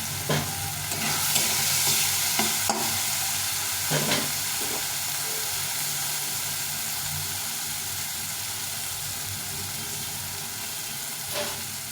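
A paste of dried and green chillies, ground cumin and garlic-ginger fries in a pan for a cauliflower and duck egg curry. A loud, steady sizzle runs throughout, with a few scraping stirs and clanks early on and no voices.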